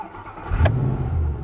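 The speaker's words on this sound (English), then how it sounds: "you can start the car here. I'll just do it." A Mercedes-Benz car engine cranks and catches when started through the backup key slot, a short burst of starter noise settling into a steady low idle rumble, close by with no talking.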